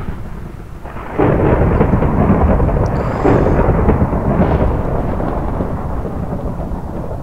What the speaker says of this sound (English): I can't tell which direction with this thunder